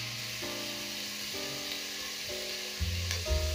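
Tomatoes, coriander stems and other vegetables fry in a pot, giving a steady close sizzle with a few stirring clatters and a louder burst of frying near the end.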